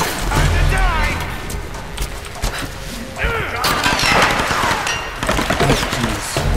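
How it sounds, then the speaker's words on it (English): Rapid gunfire crackles in the video game Tomb Raider, with repeated bursts and sharp impacts filling the scene while a player talks excitedly over the action. "Oh, jeez. Gunfire, gunfire."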